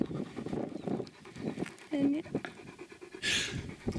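A pet dog in Sevastopol pants close by in quick rhythmic bursts of breath, with a brief whine or squeak and a louder rustle near the end, while people talk nearby.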